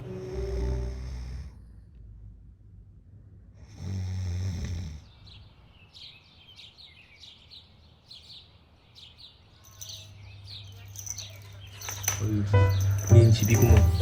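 Recorded snoring of a person asleep in a room in Turkey, two deep rasping snores a few seconds apart, close and loud, followed by chirping birds and a droning call to prayer building in the background.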